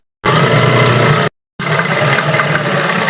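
Sewing machine running steadily while stitching a fabric patti neck design, a continuous loud motor whir with a brief pause partway through before the stitching resumes.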